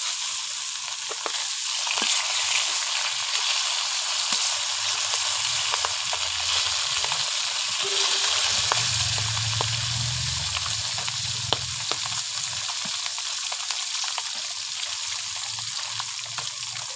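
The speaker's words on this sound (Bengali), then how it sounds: "দেখুন মাছ ভাজা প্রায় হয়ে এসেছে।" Small fish (pona) frying in hot oil in a pan for a fish curry with bottle gourd greens, giving a steady, close, continuous sizzle with occasional light clinks and stirring, no voices.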